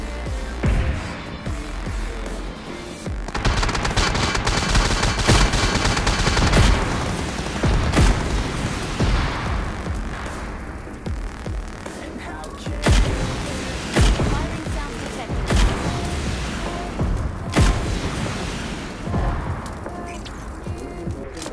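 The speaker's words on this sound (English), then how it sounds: "Firing sounds detected." Video game gunfire with repeated booming shots and bursts of fire, loud and dense throughout, with sharp impacts standing out at intervals over a steady background of combat noise.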